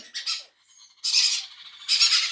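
Crimson-bellied conure chick kept as a pet bird, giving three harsh, shrill squawks in separate bursts with short quiet gaps between them, close to the microphone.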